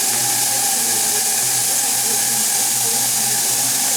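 Steam hissing out of the boiler of an RC model steam turbine, a loud continuous hiss with a faint watery bubbling underneath and a low pulsing hum, steady from start to finish.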